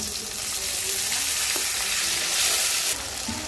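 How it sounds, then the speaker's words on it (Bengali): Ginger-garlic paste frying with onions in oil, a loud continuous close sizzle with faint stirring scrapes, swelling briefly near the end, no one speaking. "পেঁয়াজটা ভাজা হয়ে গেলে আদা রসুন বাটা দিব"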